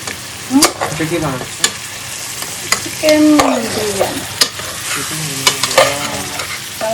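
Spice mix sautéing in a hot pan, with loud scraping and stirring strokes over a constant sizzle, plus intermittent squeaky utensil-on-pan sounds.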